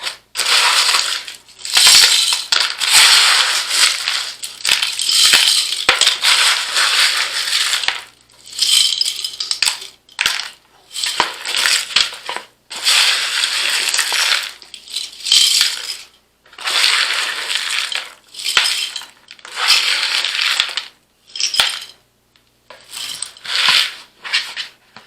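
Dried shuck beans, also called leather britches, are poured and pushed into a jar in repeated bursts of dry rattling, crunching and clattering, with short quiet gaps between handfuls, close and fairly loud.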